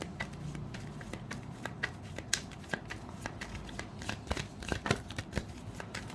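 Tarot cards shuffled by hand during a reading: a steady run of crisp riffling and slapping bursts with sharp card snaps, close and fairly quiet, no talking.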